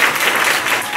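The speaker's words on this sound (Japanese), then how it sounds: "大きな拍手をお願いします。" An audience at a Japanese lecture on Okinawa news reporting applauds, dense continuous clapping at close range lasting about a second.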